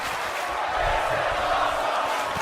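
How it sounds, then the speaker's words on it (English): Crowd noise in the wrestling game WWE 2K18: a steady, dense roar of cheering that stays loud and unbroken throughout, with no clear voice on top. "You hear the crowd?"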